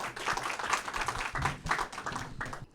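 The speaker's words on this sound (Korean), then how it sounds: "미니 강연 박수로 청해 주시면 고맙겠습니다" A crowd applauds steadily at a lecture event, a dense patter of many hands clapping at moderate distance, with no voices.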